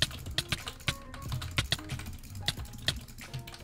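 Fast computer clicking while gaming, a rapid run of sharp key and mouse clicks at close range, steady and fairly loud with no talk.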